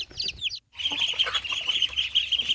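Young chicks kept on a farm cheep in a rapid cluster of high, thin peeps, break off in a short silence, then keep up a steady, closer chorus of bright, repeated peeping.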